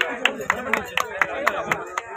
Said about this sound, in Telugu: దయచేసి అందరూ వాళ్ళని అప్రిషియేట్ చేయాలని క్లాప్స్ కొట్టాలి.